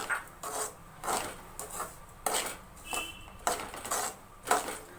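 Poha and semolina being mixed together for poha laddu, heard as a steady series of rough scraping, rubbing strokes roughly every half second, close and fairly quiet, with no talking.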